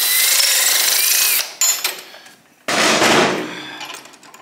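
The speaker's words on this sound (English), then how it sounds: "So then, drill it out just a little bit, hog it out." A power drill hogs out a tight pivot point on a 1977 Kawasaki KZ1000A motorcycle under restoration, running in two loud close bursts of whirring and grinding with a short pause between them.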